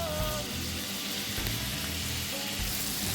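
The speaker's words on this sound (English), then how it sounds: "Just some stir-fried vegetables I'm making today. But I'm adding this shrimp to it." Shrimp and vegetables sizzling in a hot stir-fry pan make a faint, steady hiss with a few low knocks, and no voices are heard.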